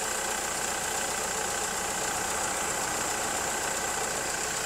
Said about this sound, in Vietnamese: Máy nổ khá là nóng rồi, nổ khá lâu rồi.